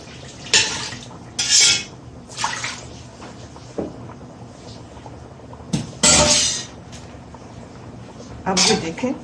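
Cooked meat for a masala pulao is moved into a large pot, giving several short, loud metal clanks and scrapes of a spoon against the cookware, separated by quieter gaps.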